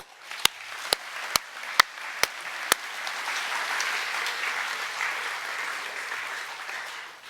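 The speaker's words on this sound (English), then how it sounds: "I think we need to give those boys a round of applause" Audience applause at a St Brendan's college captain nominee event, beginning with a handful of sharp, separate claps that swell into steady, sustained clapping from a hall crowd.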